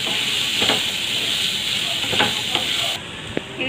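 Chickpeas fry in a pan for a curry, a loud, continuous sizzle with steamy hiss and occasional stirring scrapes, which drops slightly near the end, without voices.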